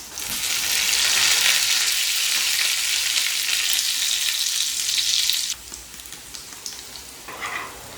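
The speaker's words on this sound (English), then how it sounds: "Now to make the tadka vagarne with homemade desi ghee, cumin seeds, garlic cloves, curry leaves, dry red chilies and hing." A tadka of homemade desi ghee with cumin seeds, garlic cloves, curry leaves, dry red chilies and hing, sizzling loudly and steadily up close for several seconds before dropping to a quieter crackle.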